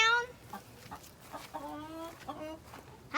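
A loose chicken on a homestead clucks repeatedly, close by and fairly loud, with rhythmic squawking calls over faint background noise.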